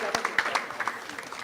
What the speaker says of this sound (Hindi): तारीफ करें सब जोर से तालियों के साथ